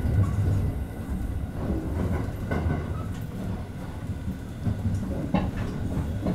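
A limited express train runs on rails near Osaka alongside the loop line, heard from inside as a steady loud low rumble with faint rhythmic clicks of wheels on track joints.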